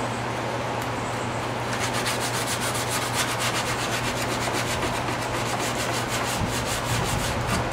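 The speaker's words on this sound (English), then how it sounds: "I want to go over all of the edges with some 100 grit sandpaper I have here." Steady, continuous rubbing of 100 grit sandpaper over filed metal edges on a Yamaha Radian custom motorcycle part, close and even, with rhythmic strokes and no talking.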